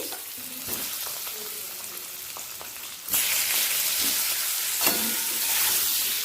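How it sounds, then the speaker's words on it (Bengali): Boiled potatoes frying in mustard oil with turmeric for a jackfruit and prawn dish: a moderate sizzle with light stirring taps that swells into a louder, brighter hiss halfway through. "আলুটা হালকা লাল করে ভেজে নেব"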